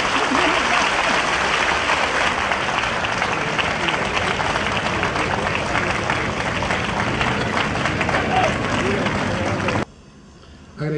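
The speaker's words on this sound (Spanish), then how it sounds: "Para que les pido un fuerte aplauso." Loud, sustained audience applause fills a ceremony marking an association's 40th anniversary in Peru, steady dense clapping for nearly ten seconds before cutting off abruptly to a quiet room.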